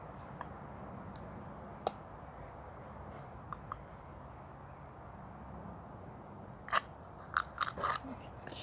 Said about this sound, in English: make a hole in the top of your pot, and I'm going to use a pair of scissors to do this